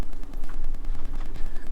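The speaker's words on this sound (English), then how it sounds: "You can probably hear the wind right now." Strong wind buffeting and rumbling around a boat at anchor in Peck Lake, a steady low roar with gusty surges throughout, loud and close.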